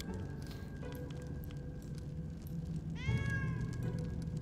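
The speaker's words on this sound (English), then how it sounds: "Meow, meow, I know. Stop meowing." A cat meows in a drawn-out, wavering cry near the end, following a few faint earlier sounds, over quiet background noise from Pathfinder Kingmaker game play.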